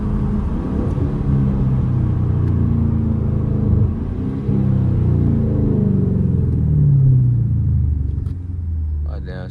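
A car engine rumbles steadily at close range through a downshift, with the low drone shifting pitch and swelling as the revs change during a late-night city drive.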